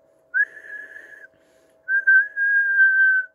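Two sustained whistled tones into microphones, steady and fairly loud, separated by a short pause, with a faint constant hum underneath.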